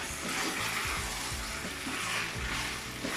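Diced onion, a stem of curry leaf and browning lamb are stirred in a stew pot, giving a steady close sizzle with soft scraping and stirring sounds throughout.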